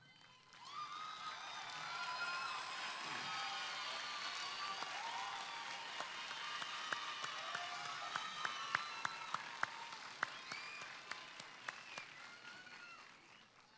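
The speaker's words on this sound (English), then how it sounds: "take a moment to thank your supporters with a round of applause" Graduating students at a 2018 commencement applaud their supporters, a broad crowd of clapping and some cheering that swells and holds, with sharper individual claps standing out toward the end before it eases off.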